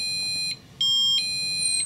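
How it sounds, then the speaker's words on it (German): The receiver of a 1byone wireless home-security motion detector sounds a piercing, high-pitched electronic alarm in repeated pulses with short gaps between them, loud and close, with no talking. "Wir haben jetzt hier einen ziemlich durchdringenden Alarm."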